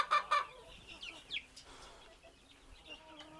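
Desi gavran chickens cluck in a farm shed, a couple of loud close calls at first followed by softer scattered clucking and chirps, with a voice faintly present.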